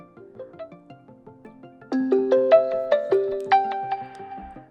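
A OnePlus Pad Pro plays its ringtone as a volume preview, a short bright melodic chime of stepped tones that grows louder midway, repeating notes ringing out clearly with no talk.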